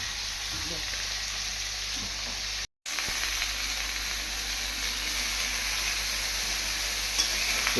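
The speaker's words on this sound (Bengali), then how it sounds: "ফুলকপি ভাজা চালু হয়ে গেছে" Cauliflower frying in a pan gives a steady, dense sizzle throughout, broken by one brief moment of silence, with faint stirring underneath.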